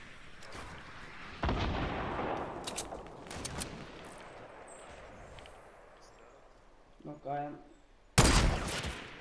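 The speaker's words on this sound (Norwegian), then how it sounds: "Her er det bare å ta skudd som dere kan," Gunfire bursts in the video game Fortnite during a squad fight from high ground, loud sharp blasts at the start, middle and end with a brief rattling burst between, under no clear talk.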